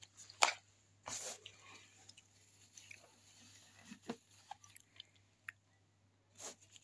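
Close, wet chewing of Indomie Mi Goreng noodles with egg, rice and cheese, in irregular soft bursts with small bites and squishy mouth sounds separated by quiet pauses.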